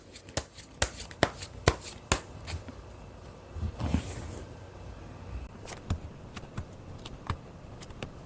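Tarot cards being shuffled by hand, making a close series of crisp riffling snaps and slaps at an irregular pace, with a softer shuffle in the middle before the sharp flicks return.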